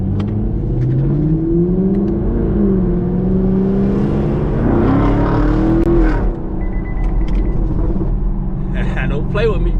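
A 2019 Camaro SS engine revs up and down, its rising and falling drone loud and close. Engine and road noise fill the clip, with voices mixed in.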